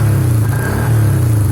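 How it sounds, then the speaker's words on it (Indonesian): A Yamaha Vixion motorcycle engine idles steadily up close without a battery, a low, constant rumble with no voices over it; the bike has a faulty regulator-rectifier. "Tanpa aki juga bisa hidup motor ini ya."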